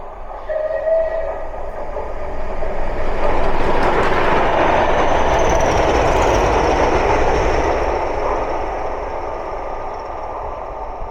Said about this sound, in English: Southern Railway West Country Class 34046 Braunton passing through Nuneaton with two Class 20s in tow